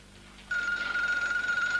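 A telephone rings with a steady electronic tone that starts suddenly and continues alone in a quiet indoor room.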